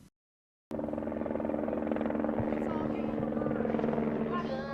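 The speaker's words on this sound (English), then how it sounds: "Helicopters flying overhead" A helicopter's steady rotor thrum drones overhead, loud and continuous after a short silence, with a faint voice in the background.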